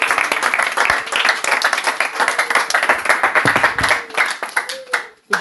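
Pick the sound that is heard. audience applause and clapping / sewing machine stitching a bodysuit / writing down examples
audience applause and clapping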